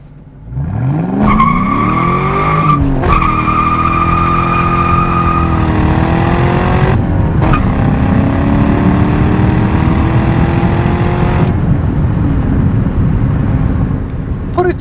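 A 2003 Ford Mustang Mach 1 with a 5-speed manual is driven hard, its engine roaring loudly and close as it revs up through the gears with sharp shifts, a long sustained pull and a final lift-off.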